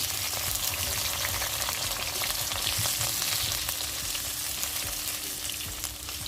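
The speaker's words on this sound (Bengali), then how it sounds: "এবার আমি এঁচড়ের পিসগুলো ভালো করে ভেজে নেব" Raw jackfruit pieces fry in oil, giving a loud, dense, unbroken sizzle with crackling spatter and occasional stirring scrapes throughout.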